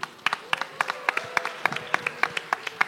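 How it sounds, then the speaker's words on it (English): A few people clap for winners at a children's competition: sparse, crisp, fairly rhythmic claps about three or four per second, close and distinct, running for a few seconds. "A huge round of applause to all the winners out here."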